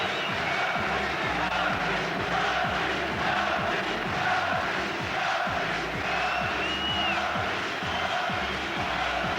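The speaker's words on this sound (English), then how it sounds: "The crowd here are certainly enjoying every moment of this." Boxing arena crowd at the Naseem Hamed vs Jose Badillo fight, a steady dense roar of cheering and shouting that stays at a constant level throughout.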